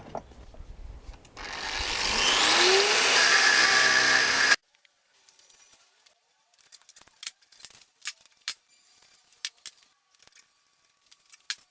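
An angle grinder cuts into a metal part on a river-found 1990s Mongoose BMX scooter, giving a loud, rising whine for a few seconds, followed by scattered scraping and tapping.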